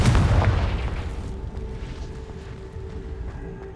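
A Confringo spell blast in Hogwarts Legacy sets off a loud booming explosion right at the start, and its deep rumble slowly fades into a quieter, crackling tail.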